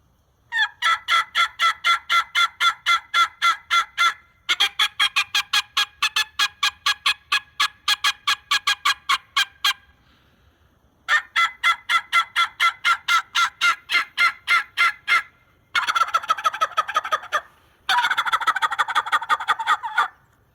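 Rapid, sharp turkey cutting calls imitated by a voice on a tube turkey call, five bursts of staccato notes separated by short pauses, loud and close with no talk.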